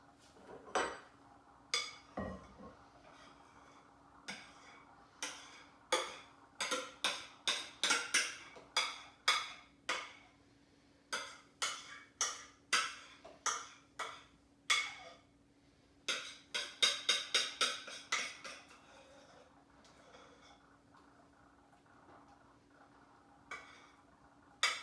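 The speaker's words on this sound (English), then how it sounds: "Now that we have both our whipped cream and our strawberry mixture, we can add them together to make our popsicle mix." A spoon or whisk mixes whipped cream and a strawberry mixture in a bowl, giving many sharp, irregular clinks and taps against the bowl over a quiet background, with no talking.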